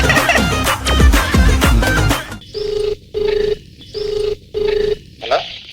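A telephone rings in a studio show setting, four evenly spaced electronic rings with short gaps after a burst of loud music and noise, clear and close.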